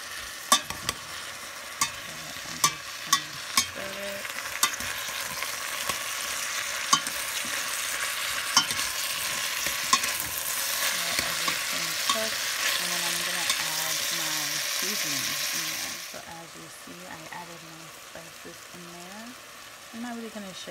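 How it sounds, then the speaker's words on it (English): A spoon stirs food frying in coconut oil, the steady sizzle broken by sharp scraping clicks against the pan every second or so; the frying quiets near the end while stirring scrapes continue, with no voices. "And then I'm gonna use my spoon to stir."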